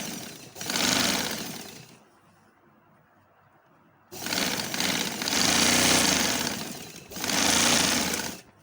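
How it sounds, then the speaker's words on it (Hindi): A domestic sewing machine runs a straight seam along the waistband casing of a shalwar, leaving room for elastic. It whirs loudly in three bursts of steady motor hum and needle clatter, with a short quiet pause between the first and second bursts. "अब मैं सीधी सिलाई ले जाती हूँ।"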